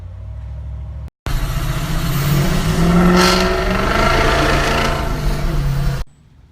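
A 2006 Ford Powerstroke diesel truck with a 4-inch straight pipe replacing the cat and stock muffler rumbles steadily, loud and close, its deep drone rising briefly in a rev before settling, after a short cut near the start.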